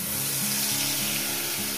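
A spice mixture of mustard and poppy seed paste hits a hot pan of oil after frying pabda fish, giving a steady close sizzle with a faint repeating tonal hum underneath, no voices.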